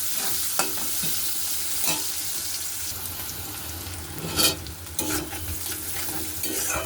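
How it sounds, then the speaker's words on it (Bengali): Onion fries in a pan with a bright, continuous sizzle. Several scraping stirs stand out loudly at irregular moments. No one speaks. "দেখুন, এখানে আমার পেঁয়াজটাও ভাজা হয়ে গেছে।"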